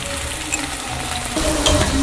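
Food with curry leaves and grated coconut sizzles and crackles in a pan while a utensil scrapes and stirs through it, getting louder toward the end.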